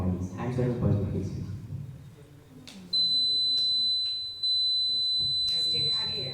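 An electronic buzzer at a school quiz competition sounds as a steady high-pitched tone held for several seconds, briefly dipping then resuming, following a stretch of talk from the quizmaster and contestants.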